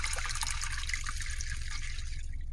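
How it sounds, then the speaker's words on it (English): Monster Energy green tea drink is poured out of a can in a steady, continuous splashing stream that stays close and even from start to finish. "I'm gonna go ahead and get this can poured out here."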